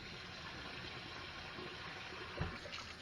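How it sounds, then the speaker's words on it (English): Steady broadband water noise as blanching water empties from a sink down the drain, with a brief louder gurgle near the end. "next thing we do is pull the drain"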